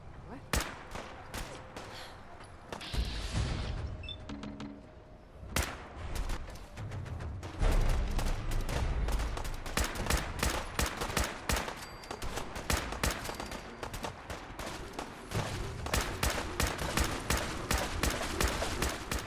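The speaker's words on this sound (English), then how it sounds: "Defend yourselves! Ready all! Fire at will!" Dense, sustained volleys of gunfire crackle and boom continuously during a foggy fight against attackers in Fallout 4 Far Harbor, with scattered shouting voices mixed in.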